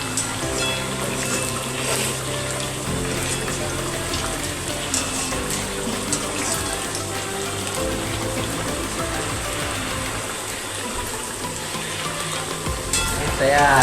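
Sabudana vada sizzle and fry steadily in oil in a pan for the whole stretch, a dense, even crackle that swells slightly toward the end.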